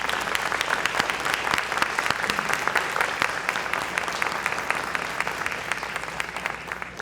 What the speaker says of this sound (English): So, Dr. Peacock, we're going to give you one more round of applause